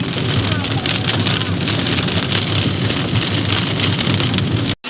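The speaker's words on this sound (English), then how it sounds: "This rain, that's crazy." Heavy rain pours steadily in a backyard during a thunderstorm, a loud, dense, continuous roar of drops on surfaces close by that cuts off abruptly at the very end.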